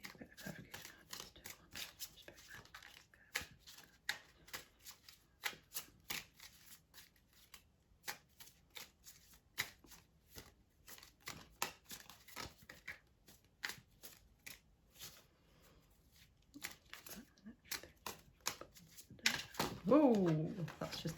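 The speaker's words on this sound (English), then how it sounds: "Me and my sloppy shuffling there" Tarot cards are shuffled by hand in a sloppy, uneven way, a run of quick papery riffles and flicks going on for about twenty seconds, close and fairly quiet, with a voice speaking briefly at the very end.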